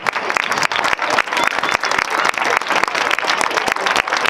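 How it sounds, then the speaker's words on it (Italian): A crowd applauds loudly as the Sant'Antonio di Gallura folk group parades past at an outdoor festival evening, dense rapid clapping that stays steady and close throughout. "Applauso forte."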